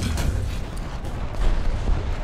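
Brummbär German tank gun firing a shell in War Thunder, heard as a heavy, rumbling low boom that rolls on continuously with dense battle noise throughout.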